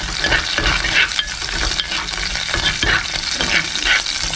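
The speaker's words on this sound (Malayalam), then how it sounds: "ഒന്ന് രണ്ട് പച്ചമുളക് നമ്മൾ കട്ട് ചെയ്തിട്ട് അതിലേക്ക് ഇട്ടിട്ട് നന്നായിട്ട് ഇത് വഴറ്റി എടുക്കാം" Curry leaves and green chillies sautéing in a hot pan, a steady close sizzle of frying broken by repeated stirring scrapes, loud and continuous with no voices.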